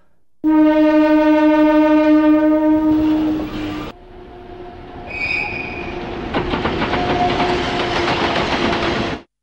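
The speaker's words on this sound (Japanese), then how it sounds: "通過する列車が僕の言葉をかき消していく。" A train passes close by, its horn blaring first, then loud rattling wheels and clattering cars rushing past before cutting off.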